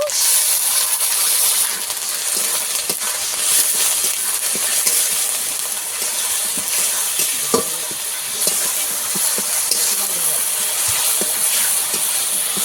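Onions frying in a pan for a pomfret curry give a steady, loud, close sizzle and hiss that runs throughout, with occasional faint scrapes of stirring underneath.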